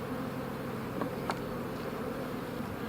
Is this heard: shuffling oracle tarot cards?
no